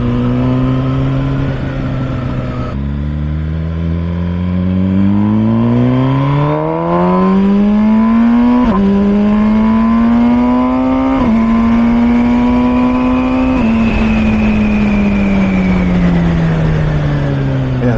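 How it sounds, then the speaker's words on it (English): An MV Agusta Brutale 1000 RS motorcycle accelerating hard through the gears, a loud close engine note rising in pitch, dropping at each shift, then climbing again in a long sustained pull. "this bike is very exciting through the acceleration because of the way the power is delivered, and also just the sound"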